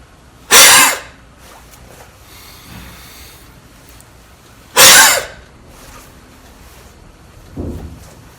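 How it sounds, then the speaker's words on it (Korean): Two sharp, forceful coughs burst out several seconds apart, with a softer third one at the end and quiet pauses between them. "폐를 아주 강한 압력으로 짜주는 듯한 동작으로 기침을 만들어내야 합니다"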